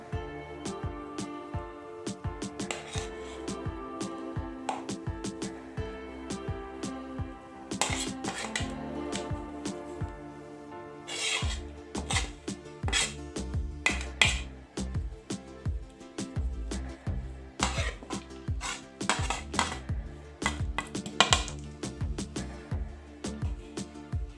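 Spices are stirred by hand into grated cabbage in a bowl for fritters, with repeated clinks and scrapes of a spoon against the dish in an uneven rhythm, close and without talk.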